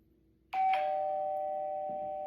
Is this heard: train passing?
no